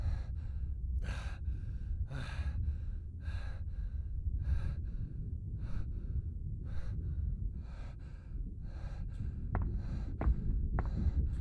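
In the horror video game The Silent House, the character breathes heavily over a steady, thumping heartbeat. The pulses repeat throughout at close range, and several sharp clicks come near the end.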